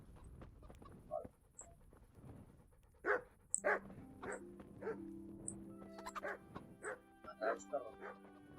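Several dogs yip and bark in short scattered bursts in Kingdom Come: Deliverance, some close and some farther off, over quiet ambience and a low steady hum, with a voice talking faintly now and then.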